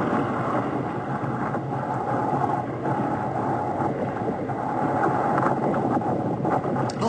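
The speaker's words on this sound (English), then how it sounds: "All this noise in the background is the combination of the surf and the wind." Wind and surf roaring together at sea during a sea kayak rescue, a dense, steady broadband rush with constant gusty buffeting throughout.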